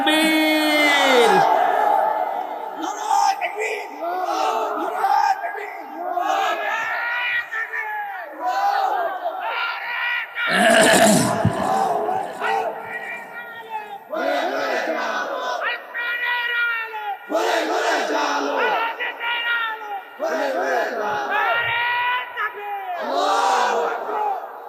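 A large crowd at an outdoor religious sermon gathering in Kushtia shouts a takbir chant in repeated loud bellowing waves, massed voices rising and falling in unison, distant and echoing, filling the whole stretch.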